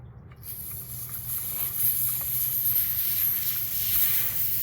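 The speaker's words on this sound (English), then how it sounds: "opening out this tire valve, letting all the air out" Air hisses out of an opened tire valve while a faulty TPMS sensor is being replaced, a continuous, steady high hiss close by that runs the whole time over a low background hum.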